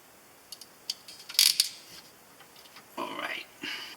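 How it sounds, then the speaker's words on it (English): Ratchet crimping tool clamping down on a connector during 12V electrical wiring in a camper conversion, heard as a few close, sharp clicks and mechanical snaps followed by a brief squeezing rasp. "you can then start to clamp down using the ratchet"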